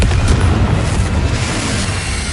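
Confringo explosive spell in Hogwarts Legacy, a loud deep boom that rolls and rumbles continuously throughout, with no voices over it.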